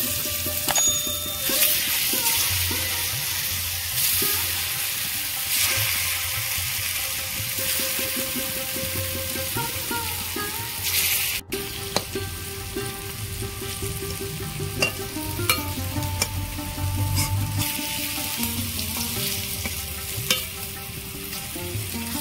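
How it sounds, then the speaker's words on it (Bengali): Jackfruit seed pieces fry in hot oil in a kadai, giving off a loud, continuous sizzle with stirring scrapes and occasional bright metallic clinks, close up and with no talking. "তেল গরম হয়ে গেছে, এবার আমি এগুলো ভেজে নেব।"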